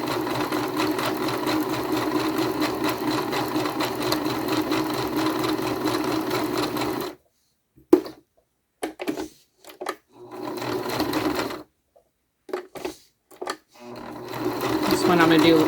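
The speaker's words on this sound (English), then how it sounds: "with an average sewing machine, you should have no issues sewing through it." A sewing machine sewing through thick foam runs steadily for several seconds with a rapid mechanical whir, then stops and restarts in short bursts with quiet gaps between.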